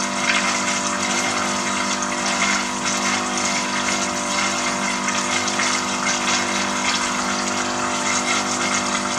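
Water bubbles and churns continuously, a loud, steady rushing and gurgling with no pauses, up close.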